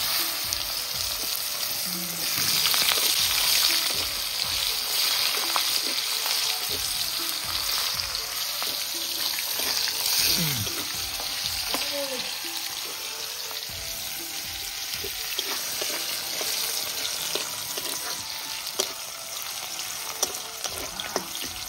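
Onions fry in a pan with a continuous loud sizzle and crackle, broken by occasional stirring and scraping, with a brief voice now and then.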